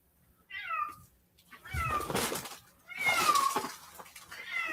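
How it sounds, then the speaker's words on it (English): A pet cat meows insistently nearby, three drawn-out wavering calls spaced a second or so apart, the last one long and strained, with some indoor background sound between them. "Oh, my cat."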